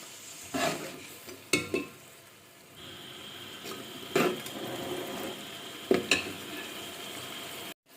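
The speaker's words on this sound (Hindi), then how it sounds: "अब जो गोश्त मैंने यखनी से निकाला हुआ था, अब इसके अंदर हम डाल देते हैं और गोश्त को अच्छे तरीके से फ्राई कर लेते हैं।" Pieces of beef taken from yakhni stock sizzle steadily as they fry in a pot, with a handful of sharp spoon-scrape stirring clatters breaking through the hiss at uneven intervals.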